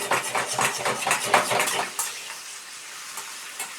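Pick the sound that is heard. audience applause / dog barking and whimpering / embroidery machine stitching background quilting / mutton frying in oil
mutton frying in oil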